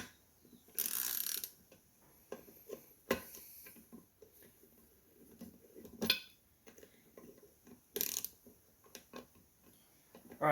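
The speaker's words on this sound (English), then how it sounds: "when you're tightening these down, they do not need to be super tight" Bolts on duplex pumpjack face plates are tightened by hand, giving sparse metallic ratchet clicks and clinks with a few sharper bursts, quiet and close, with long gaps between them.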